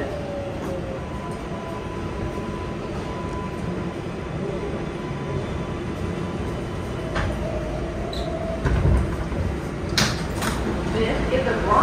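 An R142A 5 Express subway car rumbles along the track in a steady loud ride, with rattles, faint squeals and a few clunks, a louder jolt near the end, and muffled voices in the car.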